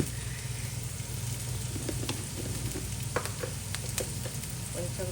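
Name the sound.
vegetables frying in a pan for street-style noodles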